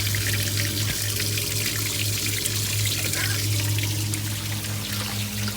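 Water from a hose flushing through the radiator of a 1968 Mustang, a loud steady rushing and splashing flow with no breaks.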